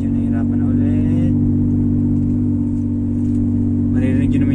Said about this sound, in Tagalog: Maririnig yun naman yung tunog ng makina.